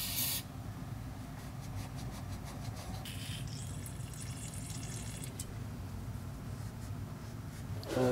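Brake cleaner sprays from an aerosol can onto corroded brake parts of a car with creaking brakes, a hissing burst that comes and goes over steady low background noise.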